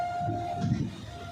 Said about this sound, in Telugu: ఇంకో ట్రైన్ వస్తుంది.